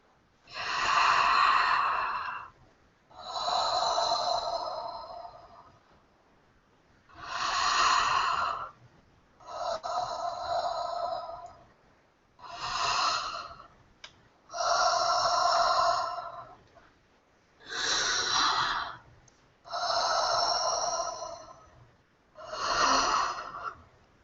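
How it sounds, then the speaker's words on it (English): Slow, deep breaths during a guided chakra relaxation session, each inhale and exhale audible and breathy, about nine long breaths repeating at a steady rhythm, close and fairly soft with no talking. "I want you to breathe out kind of audibly"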